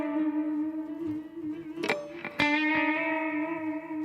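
An electric guitar rings out sustained notes through effects with distortion and reverb, its pitch wavering in an unsteady beginner's vibrato, with two sharp pick attacks near the middle.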